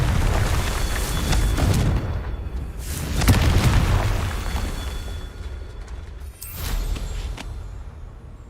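Confringo blasting-spell explosions in the Merlin Trials video game on hard mode, several booming bursts with deep rumbling tails in quick succession, loud and close amid continuous game ambience.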